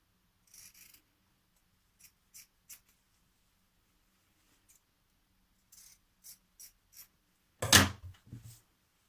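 Scissors snip through a fabric seam allowance in short, sparse, quiet cuts spread across the quiet stretch, followed by a louder handling thump of cloth or tools near the end.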